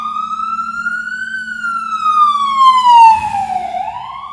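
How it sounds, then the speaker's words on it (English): An ambulance siren passes close by, wailing in long sweeping tones that rise, slide down and climb again, loud and alone with a faint rumble of traffic beneath. "Let that emergency truck, that ambulance go by."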